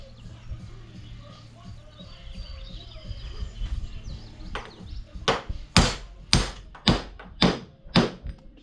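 A hammer whacks a bearing on a Woods 6215 mower in a steady run of about seven loud, close metallic blows. Quieter workshop background with faint birds comes before them.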